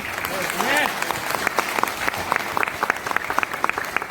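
An audience claps vigorously at a motivational seminar, a crisp, dense patter of many hands with sharp individual claps, loud and continuous, while a voice calls out briefly near the start.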